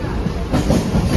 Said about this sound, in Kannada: ಫೈನಲಿ ಟ್ರೈನ್ ಸಿಕ್ತು ತಾನೆಯಿಂದ ಏರೋಲಿಗೆ